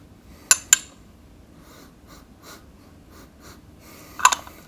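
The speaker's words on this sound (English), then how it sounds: "I'm going to take a sniff of this as well." Quick nasal sniffs at aged pu-erh tea, two sharp close inhales near the start and another pair near the end, faint and close against a quiet room.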